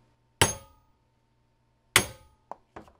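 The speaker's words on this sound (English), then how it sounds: "So I'm going to take this big hammer and I'm just going to drop it." A big steel hammer dropped onto the action of an 1873 Springfield trapdoor rifle, giving two loud sharp metallic impacts with short ringing decays, then two smaller clinks close together, in an otherwise quiet room.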